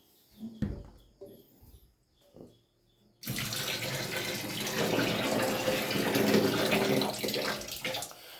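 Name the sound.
warm water running for bathing a baby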